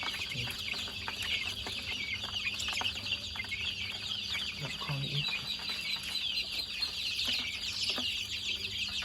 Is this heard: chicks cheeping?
yes